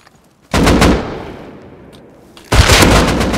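Gunfire in the survival game Rust: two loud, close bursts of rapid shots, one starting about half a second in and another near the end, separated by a decaying ringing tail.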